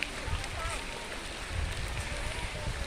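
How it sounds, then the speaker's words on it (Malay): Steady rain falls at a campsite at Desa Kekabu Inn in Setiu, a continuous even hiss of drops spread through the air with low rumbling underneath and faint voices in the background. "Kemo dalam hujan lah kita"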